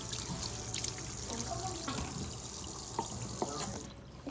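Tap water runs steadily into a sink during handwashing, a close continuous splashing hiss with small drips and knocks, heard alone without talking.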